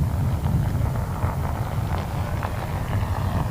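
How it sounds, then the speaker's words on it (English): A banner flag whips in strong wind at the AIAA Design/Build/Fly aircraft competition, with soft irregular flaps over a continuous, rumbling gusty roar. "You can hear that flag blowing in the wind, the banner."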